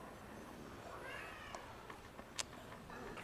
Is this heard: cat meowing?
yes